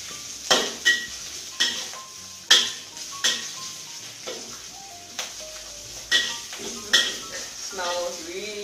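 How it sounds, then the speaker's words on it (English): Mushroom and black fungus stir-fried in a wok, with repeated sharp clangs of a spatula against metal over a soft sizzle, close and rhythmic. "And stir fry it until it becomes fragrant."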